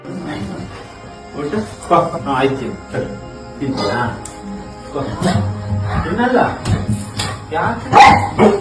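A dog barks several times among continuous talk in Tamil and Kannada, a pet refusing its food until a prayer is said; the barks come in short bursts, fairly near, partly masked by the voices.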